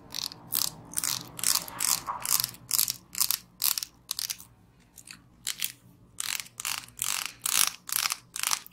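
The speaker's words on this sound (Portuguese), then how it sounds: "Agora eu vou pentear com esse pente aqui" A comb is drawn through hair close to the microphone, making a series of crisp, rasping strokes in a fairly regular rhythm, with short pauses between passes and no talking.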